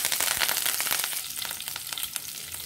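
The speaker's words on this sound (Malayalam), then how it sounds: "കടുക് പൊട്ടുന്നുണ്ട്." Mustard seeds splutter in hot oil in a pan, a dense run of sharp crackling pops and sizzle heard up close, with no talking.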